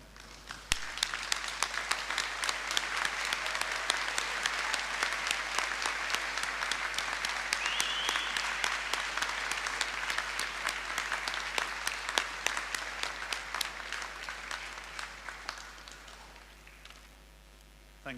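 A large graduation audience at Abertay University applauds family and friends, sustained dense clapping that swells early, holds steady for over fifteen seconds and then tapers off.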